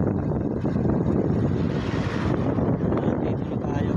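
A small boat motor drones steadily while crossing the water near a beach resort, a constant loud rumble mixed with wind buffeting the microphone and no clear speech.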